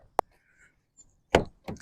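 Car door of a 2025 Honda Civic Sport Touring Hybrid shutting: a sharp click followed by a solid thud, close up, with a brief second knock after it.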